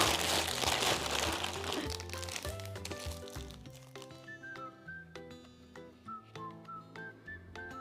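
A crinkly plastic cheesecake snack packet being opened up close, with loud crackling rustles at first that ease into sparse crinkles, joined by light whistle-like tones in the later part.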